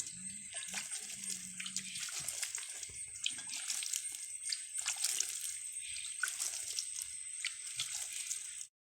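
Freshly repotted begonia plants being watered, a soft, steady trickle and splash of water running continuously and fairly faint, with no voices.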